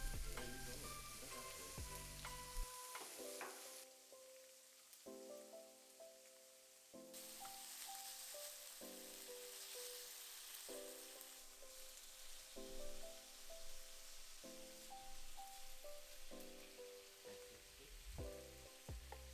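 Sliced pork frying in oil in a pan beside pushed-aside yakisoba noodles, producing a continuous hissing sizzle, very faint and set beneath tonal background music throughout.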